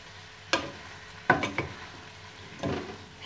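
Spaghetti is stirred in a pan with teriyaki-style sauce, three or four short scraping strokes over a faint steady sizzle, with no voices.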